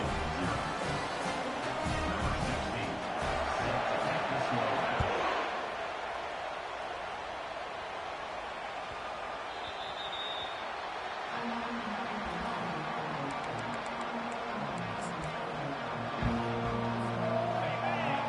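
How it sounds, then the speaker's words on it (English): Fired-up football stadium crowd at Michigan vs Ole Miss, roaring early in the game as a kickoff is set up: a loud, steady, broad wall of crowd noise throughout, with a commentator talking over it. "It's early, but this crowd is fired up. Listen to this noise here."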